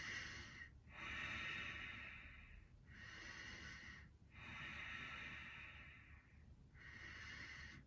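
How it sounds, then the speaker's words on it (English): Slow, audible breathing through a closed mouth during lying-down yoga relaxation, heard close up as long airy inhales and exhales in a steady cycle of about four breaths, with no speech. "Maybe you can hear the sound of my breath."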